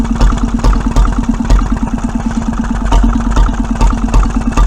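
A 1925 Petter M 1.5 HP vintage stationary engine runs on petrol, its steady, even chugging beat continuing close and loud throughout.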